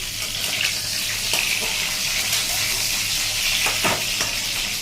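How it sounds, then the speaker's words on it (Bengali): Hot oil spatters and sizzles loudly as food fries in a pan, a dense continuous crackling hiss with occasional sharper pops and stirring scrapes, close by and without voices. "ভালো করে ভেজে নিই"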